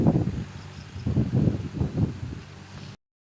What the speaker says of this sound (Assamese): ইমান ধুনীয়া বতাহ মাৰিছে